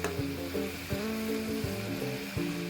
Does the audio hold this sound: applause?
no